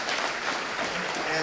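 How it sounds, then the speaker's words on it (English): An audience applauding a speaker, author Elias Castillo, at a talk on Junípero Serra: dense, steady clapping from a crowd filling the whole moment, with some voices mixed in. "Let's give him a round of applause."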